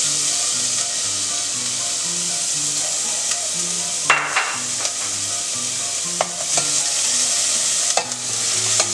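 Food browning in a little olive oil while stuffed tomatoes are being made, with a steady loud sizzle and repeated scraping strokes of a spoon stirring the pan, a few sharper knocks near the end, and no talk.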